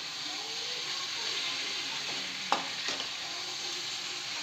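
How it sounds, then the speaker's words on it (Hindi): Potatoes stirred and frying in masala in a pan for a tasty sabzi, a steady close sizzle and hiss with a couple of sharp spoon-scrape clicks near the middle, no voices. "इसे हम 2 मिनट तक मसाला में ऐड कर लेंगे, अच्छे से चला देंगे ताकि अच्छे से मिक्स हो जाए आलू में।"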